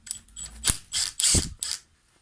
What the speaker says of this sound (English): undo all your screws